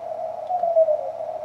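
Morse CW signal on a TenTec Century 21 radio tuned to zero beat, a steady continuous tone held at one pitch over faint background hiss.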